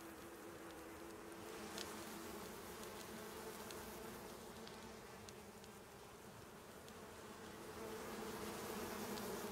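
A swarm of bees in the game ICARUS hums in a steady, low, continuous drone that swells slightly toward the end, with no voices over it.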